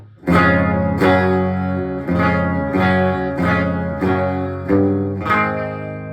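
Electric guitar through a G4M GA-20E mini amp on the clean channel with reverb off, playing a series of about seven strummed chords, each ringing out and decaying before the next, dry and fairly close.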